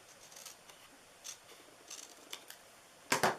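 Scissors trimming a small craft piece cut slightly too wide for a turtle treat holder: faint soft snips scattered through a quiet room, ending in a louder, closer double snip.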